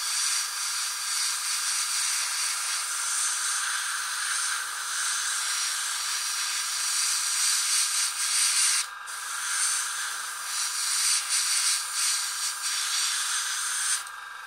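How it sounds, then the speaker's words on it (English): An airbrush sprays paint around the edge of a painted miniature, giving a steady close hiss that stays even and drops out briefly twice. "I'm going to just go around the edge with the airbrush on here."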